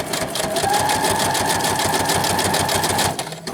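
A sewing machine stitches through a paper envelope, running in a steady, loud, continuous drone close up before easing off at the very end.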